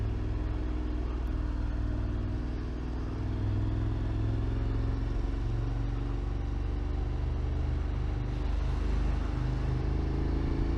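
Motorcycle riding along the D76 mountain road in France, its engine a steady low rumble with constant wind and road noise, loud and close throughout, no pauses and no talk.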